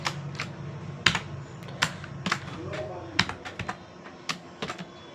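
HTML code is typed on a computer keyboard in a coding lesson, with irregular bursts of close, crisp key clicks and occasional heavier key strikes, and a voice is faintly present underneath.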